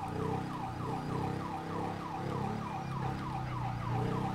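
An ambulance siren in the video game GTA 5 wails in a fast, repeating up-and-down pattern, fairly faint and continuous over a low traffic rumble.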